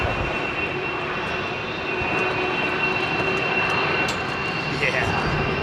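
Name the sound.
jet airliner engines at Heathrow Airport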